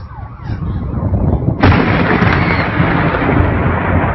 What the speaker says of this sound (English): comes thunder